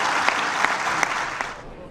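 A round of applause in the UN Security Council chamber after a resolution vote, steady clapping from the room with a few sharper claps standing out, fading toward the end.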